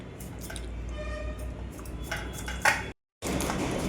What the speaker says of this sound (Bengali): আমি দা দিয়ে ভালো পারি, দা দিয়ে কাটছি